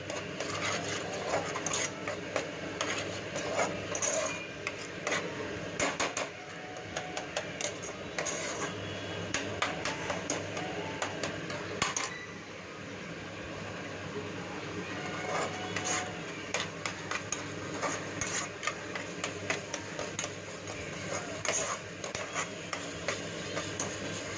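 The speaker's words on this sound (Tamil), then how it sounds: "பண்ணிவிட்டு நல்லா வதக்கி விட்டுக்கலாம். ஒரு 2 மினிட்ஸ் வதக்கணும்." Tomatoes sautéing in oil for tomato rasam give a steady, close sizzle with intermittent scraping and stirring of the pan throughout, with no voices.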